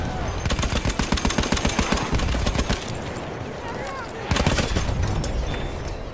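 A machine gun with a 250-round magazine firing in a video game, a rapid rattling burst of close, loud shots that stops, then a heavy second burst of fire, with voices talking in the mix.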